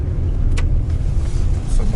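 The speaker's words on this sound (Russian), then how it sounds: "Движение вот так. Туда-сюда машины меняют." Cars roll along a wet, snowy city street in Syktyvkar, a continuous low traffic rumble with a brief brighter swish of a passing vehicle, steady and fairly near, with no talk.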